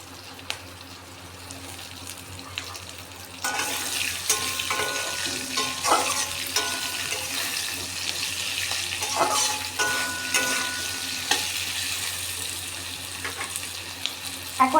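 Peanuts and chopped green chillies stir-fry in a pan for a cabbage dish. A soft background hiss jumps into a louder crackling sizzle a few seconds in, with occasional scraping stirs and clatter continuing throughout.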